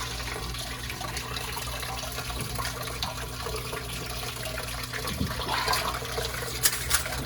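Water forced through a sump pump check valve, a continuous gushing, churning rush of liquid close by with no talking.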